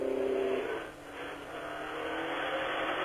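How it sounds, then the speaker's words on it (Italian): A Lancia Delta rally car drives a snowy special stage at the Monte Carlo Rally, its engine droning steadily from inside the cabin, briefly easing off then pulling again, loud and continuous with no talk. "vedremo sfilare la Lancia Delta di Cerato Vasino, che terminerà nona in questa prova"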